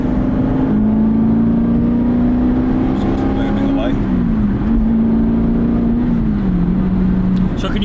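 An Aston Martin Vantage engine and exhaust drone steadily, heard from inside the car while driving, its pitch rising and falling gently as the revs shift.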